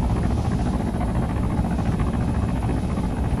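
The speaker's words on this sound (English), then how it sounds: "There's a helicopter driving in." A helicopter flies in during an Arma 3 match, giving a loud, steady rotor drone with a dense low rumble that holds for the whole stretch.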